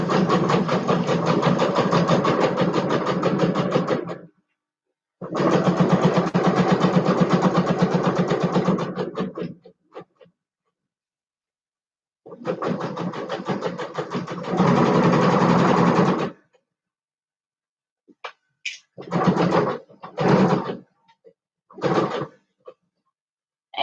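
A sewing machine running a long basting stitch, in several sustained bursts of steady motor whir separated by pauses, ending with short stop-start spurts; close and loud with no talking.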